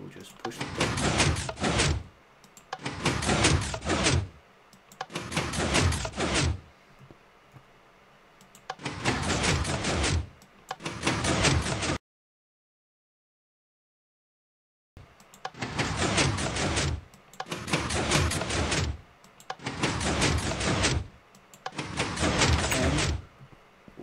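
A redstone combination-lock door opens in Minecraft. Loud, evenly spaced bursts of mechanical sliding noise repeat about every two seconds, then fall silent for a few seconds before the same rhythm starts again.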